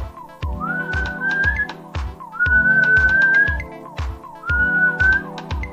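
A person whistles a repeated rising tune, three similar phrases in a row, over a rhythmic thumping background beat.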